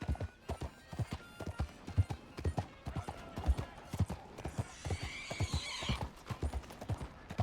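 Horse hooves clip-clop in a steady rhythm while riding in the Red Dead video game, with occasional whinnies and a brief burst of higher hiss midway, no speech present.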